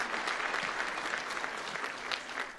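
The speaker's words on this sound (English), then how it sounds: "I'd just like to give an incredible round of applause for our good friend Justin for coming back up here" A crowd at a Nunavut devolution agreement celebration in Iqaluit applauds steadily, a fairly distant, even wash of many hands clapping, no voices on top.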